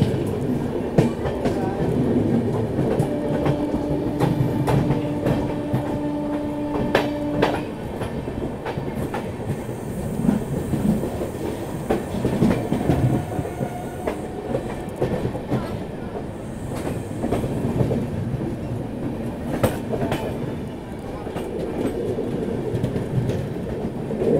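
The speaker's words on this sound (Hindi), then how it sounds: "आनंद विहार दानापुर जन साधारण एक्सप्रेस ये सामने से जा रही है वैप 7 के साथ में" An Anand Vihar–Danapur Jan Sadharan Express hauled by a WAP-7 electric locomotive passes near Ghaziabad, heard from an adjacent train: a loud, steady rail rumble with rhythmic clickety-clack of wheels, a sustained horn-like tone early on, and occasional metallic squeals.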